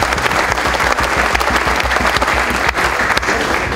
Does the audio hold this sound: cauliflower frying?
no